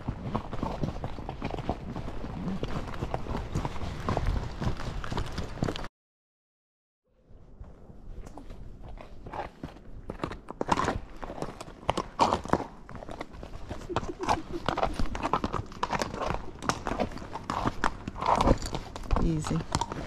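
Missouri Fox Trotter horses walking a slippery downhill trail in Empire Mine State Park, hooves clip-clopping in a steady close rhythm with a rider talking over them and a brief gap of silence.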